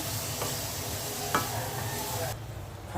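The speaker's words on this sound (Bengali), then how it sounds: "ইফতারের জন্য দুধ ভেজে নিচ্ছি" A milk-based snack for iftar frying in hot oil in a frying pan, giving a steady, loud, close sizzle with a couple of sharp clacks like a stirring utensil.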